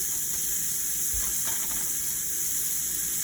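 Food sizzles steadily in a frying pan after being shaken into an even layer, a constant close hiss with a brief clatter partway through and no voices.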